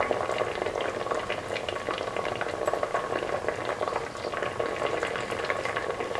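Potato, carrot and coconut milk stew mixture bubbling steadily in a pot, a dense continuous simmering burble with small popping bursts, close and fairly quiet, with no voices.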